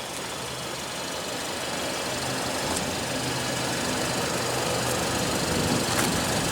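A 2016 Hyundai Sonata's 2.4 L four-cylinder engine idles steadily, a continuous close, even hum with a faint ticking texture and no talk.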